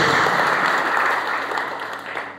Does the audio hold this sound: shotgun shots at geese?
no